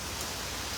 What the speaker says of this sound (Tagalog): Grabe kalakas ang ulan.